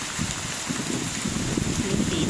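Heavy rain pours steadily during a typhoon, a dense, loud wash of drops on surfaces mixed with wind noise on the microphone, continuous throughout.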